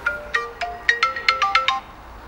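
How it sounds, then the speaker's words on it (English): A phone ringtone plays a bright, rising-and-falling melodic pattern of quick electronic tones, about nine distinct beeps in a steady rhythm, clear and close with no talking. "And just in time, the phone rings."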